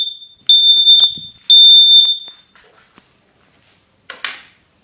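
A Kidde NightHawk smoke detector under test sounds loud, piercing electronic beeps, two long shrill tones close by, followed by faint handling clicks and a short rustle, with no talking.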